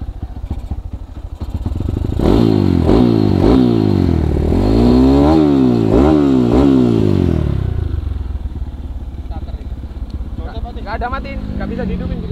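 Motorcycle engine revving up and down repeatedly at close range on a ride in Jogja, loud rising and falling blips over a steady idle, then settling back as wind noise grows.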